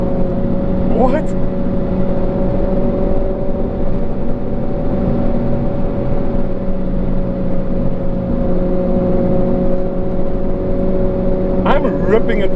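Hot hatch, a Renault Clio RS or Abarth Punto Scorpione, pushed hard through a corner, engine holding a loud steady drone inside the cabin with brief squeals at the start and end.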